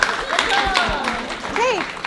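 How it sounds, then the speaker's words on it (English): An audience at a school arts event applauds performers, with steady clapping mixed with high voices calling and whooping over it. "Clap for them."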